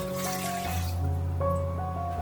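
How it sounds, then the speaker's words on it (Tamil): Two cups of water pour into an Instant Pot Duo, a continuous close filling gurgle whose pitch shifts and rises as the inner pot fills, with no voices. "2 கப் தண்ணி ஊற்றிக்கலாம்."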